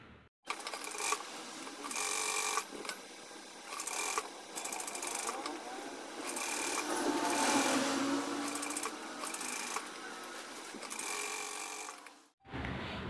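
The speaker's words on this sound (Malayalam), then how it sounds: "സ്റ്റിച്ച് ചെയ്ത് കൊടുക്കുക" A sewing machine stitches churidar top fabric in rapid, rhythmic bursts, running and pausing several times over about twelve seconds at close range, with a longer continuous run in the middle.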